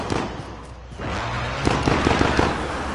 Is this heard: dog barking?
no